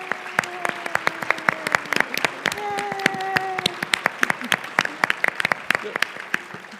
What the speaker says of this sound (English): I'm going to ask the audience to please give our incredible panelists a round of applause